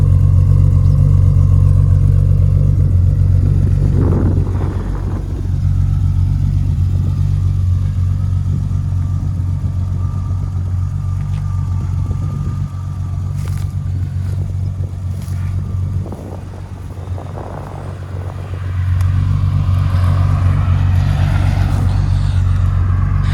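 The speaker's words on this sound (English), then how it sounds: "Let's listen to that idle a bit." A BMW E30 325iS engine idles steadily up close, a continuous low rumble with a faint mechanical clatter and a slight dip in level partway through, with no one talking.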